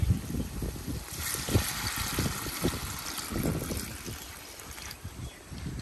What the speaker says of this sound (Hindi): तो अभी टाइम होता है इसमें पानी डालने का।